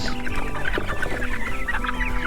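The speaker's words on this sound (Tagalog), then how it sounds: "50 na mga manok." Several free-range chickens clucking together nearby on pasture, a busy overlapping chatter of short clucks that runs steadily throughout.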